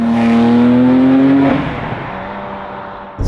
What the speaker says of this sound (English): I love the exhaust tone on this. I've got it in the sport setting right now, which opens that valve up